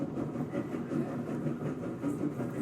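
The Eagle Limited train in the game Control rolls along with a steady, low rumbling clatter and soft rhythmic pulses, fairly quiet and continuous with no voices.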